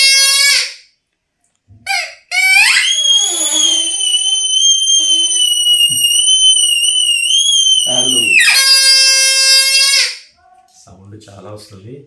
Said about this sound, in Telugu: అండ్ ఇది వచ్చేసేసి విజిల్.